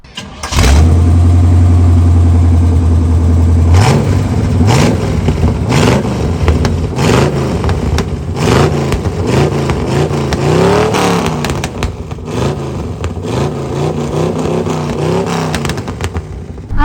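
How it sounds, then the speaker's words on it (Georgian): A 1979 Chevrolet Corvette C3 with a 6.2-litre engine cranks, fires up and settles into a low idle, then is revved again and again in loud, close bursts, with no talk over it. "ამ ავტომობილს 6 და 2 აქვს ძრავი, ხო და ახლა 6 და 2 შესაძლებლობები უნდა მოგასმენინოთ მე თქვენ"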